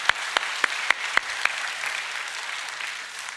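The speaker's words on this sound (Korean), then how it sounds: "우리 박수로 한번 환영하겠습니다." Church congregation applauding at a Sunday service, a burst of handclaps with a few sharp louder claps at the start, then a steady wash of clapping that continues evenly to the end.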